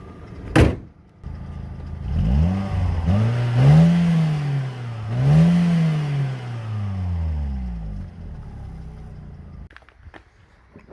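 Stock engine of a cheap Australian hot hatch revving up and falling back in a few rising swells, loud and close, with a thump beforehand and faint clicks at the end.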